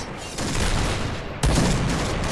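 Two bursts of heavy gunfire in an online shooter video game, loud and dense, the second burst starting abruptly midway and continuing to the end.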